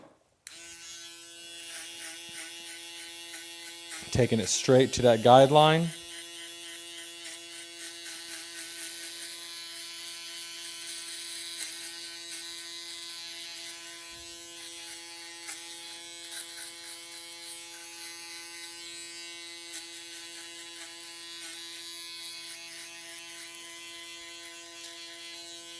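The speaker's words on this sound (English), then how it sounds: "Now I'm going to do my foil shaver." Electric foil shaver buzzes steadily at close range for the whole stretch, with a brief louder burst early on and a short spoken remark.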